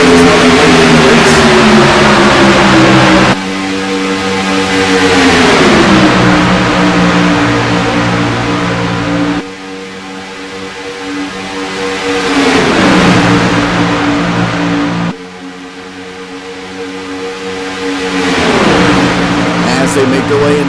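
Stock cars race at Daytona in a video game, engines roaring loudly and rising in pitch in repeated sweeps as cars pass, with the noise swelling and dropping across the lap.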